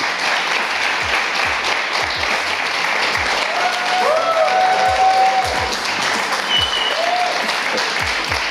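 Audience clapping at a StarCraft 2 esports tournament quarterfinal, IEM 2015 Gamescom: loud, sustained crowd applause filling the hall, with occasional brief tonal sounds over it.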